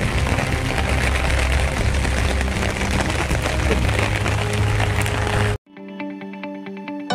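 Heavy monsoon rain pours down at Hattarsang Kudal, a loud, dense and continuous roar that cuts off abruptly near the end, giving way to a brief quieter tonal passage.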